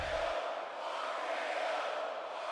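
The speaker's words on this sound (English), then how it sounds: "And this crowd's chanting RKO already." An arena crowd in the wrestling video game WWE 2K22 chants for the RKO, a broad, steady roar of many voices heard at a distance, continuous and even with no commentary over it.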